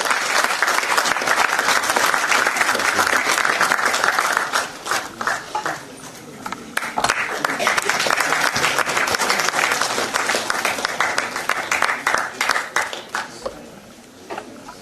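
A conference audience claps in sustained applause, loud and dense at first, then thinning into scattered individual claps before fading.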